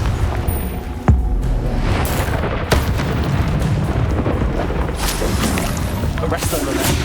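A Confringo fire spell explosion from Hogwarts Legacy, sharp booming bursts landing amid constant rumbling game noise, with a couple of punchy hits standing out and a voice speaking in the mix.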